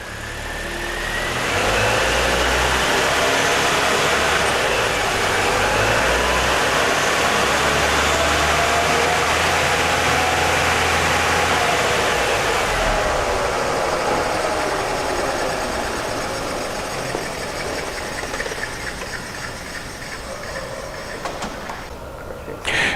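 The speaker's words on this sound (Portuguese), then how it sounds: "a gente está usando um jacaré para erguer uma das rodas do veículo e vai pôr o veículo em movimento." A vehicle engine runs steadily with one wheel raised on a jack so the wheel can spin during a dynamic inspection test. The roar is loud and sustained, with a whine that shifts in pitch, then settles a little toward the end.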